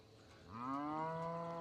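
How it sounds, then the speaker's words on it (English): A red white-faced cow in a small herd gives one long, rising moo that begins after a brief quiet and carries on steadily, heard faintly at some distance with no voices. "there's a red white face cow"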